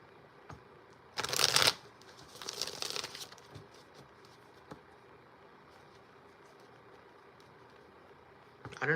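Two quick riffles of a deck of playing cards being shuffled close up, each a crisp burst of fluttering snaps, followed by quiet room noise and a faint knock, with another shuffle starting at the end.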